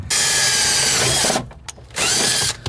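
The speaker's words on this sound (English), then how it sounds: "So this time I'm gonna drill a little closer to here." A power drill drilling holes to fit a car body kit with self-tapping screws whirs loudly and steadily, cuts out briefly in the middle, then spins up again before stopping.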